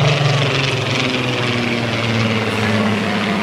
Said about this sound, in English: if you make a mental note of the sound of the engine in the Spitfire